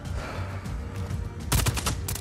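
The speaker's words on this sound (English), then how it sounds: "I just shot him in the ass a few times." A burst of rapid gunfire from a Just Cause 4 shootout, several sharp shots clustered together in the latter part over a low, steady game background rumble.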